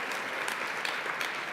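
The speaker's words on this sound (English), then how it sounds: "give them a round of applause for participating today" Conference audience applauding during a keynote, a brief, steady wash of clapping heard from a distance at low level.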